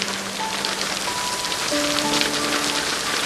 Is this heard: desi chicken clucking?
no